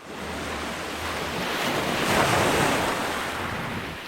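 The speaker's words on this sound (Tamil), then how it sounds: "அப்புறம் கொஞ்ச நேரம் கழிச்சு கடல் அலைகள் சத்தம் கேட்டுச்சு" Sea waves in a Tamil cartoon: a continuous wash of surf that swells gently to a peak midway and eases back, with a windy, rushing texture and no voices.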